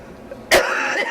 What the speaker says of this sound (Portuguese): Para não gravar toda essa tosse.